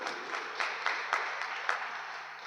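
Audience at a church gathering in an ashram claps together in a quick, even rhythm, a short run of crisp applause with no voices over it.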